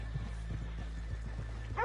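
A horse in the video game Red Dead Redemption 2 gives a short whinny at the end over a low background drone, with faint scattered hoof clops before it.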